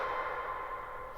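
An EQ'd, distorted Splice sample drenched in reverb forms a sustained, washy midrange drone, steady and fairly loud throughout the short stretch with no voices.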